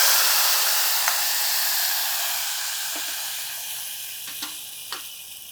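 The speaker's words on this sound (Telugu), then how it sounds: "పోపు వేగిపోయింది, దీన్ని తీసి కూరలో వేసేద్దాం." Hot tempering with curry leaves sizzles loudly as it is poured into a Telugu raw banana and chana dal curry, a steady close hiss that slowly fades, with a few faint clinks.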